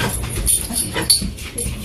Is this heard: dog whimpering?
yes